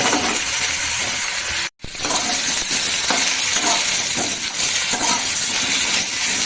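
Chopped bottle gourd and two green chillies hit hot oil in a pan, giving a loud, close, continuous sizzling hiss that drops out for a split second before the frying roar resumes, with no talk.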